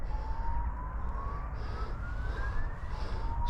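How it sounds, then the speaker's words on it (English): An emergency vehicle's siren on a road heading towards Brampton, an unusual tone rising slowly in one long continuous sweep over steady traffic rumble and rain-like hiss, moderately loud and fairly close. "Some strange emergency vehicle making a funny noise."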